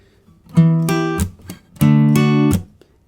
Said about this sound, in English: So you get down, up, down on the mute strum.